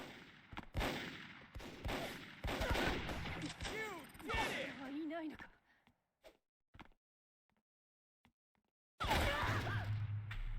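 Gunfire crackles in the video game Microvolt Recharged in rapid bursts and single shots while players talk over it. The shooting breaks off into near silence with a few stray shots, then a loud burst returns.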